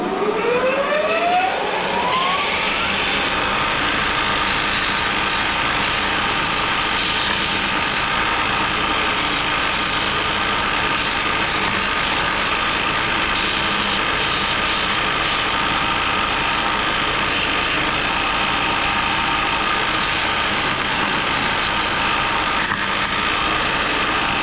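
A belt sander spins up with a rising whine and then runs continuously at a loud, steady roar while sanding a cutting board, close by with no talk.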